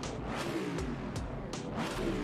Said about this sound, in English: Sounds good, that Jaguar.